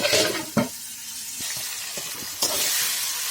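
Chopped tomato and salt cook in a pan with a steady close sizzle, broken by a few sharp stirring scrapes and clinks of a utensil against the pan.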